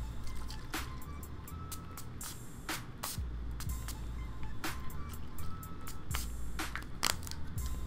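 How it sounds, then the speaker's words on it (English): Several short, sharp sprays from an Urban Decay De-Slick makeup setting spray pump bottle, spaced unevenly apart, close up and crisp against a quiet background. "I'm going to go in with the Urban Decay D-Slick Makeup Setting Spray"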